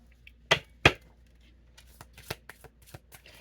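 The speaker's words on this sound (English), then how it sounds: "Somebody doesn't want me shuffling cards." Playing cards are shuffled close by, with two sharp riffling bursts followed by a string of softer, quick flicks and taps.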